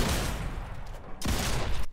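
Rapid gunfire crackles from a first-person shooter video game as an opponent shoots through a wall, a dense continuous burst that briefly drops out and then resumes, with no voices over it.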